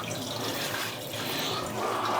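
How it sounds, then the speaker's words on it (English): Hot water poured over a wax-coated knife, a continuous splashing hiss of running water close by, no talking. "just put hot water on it like that"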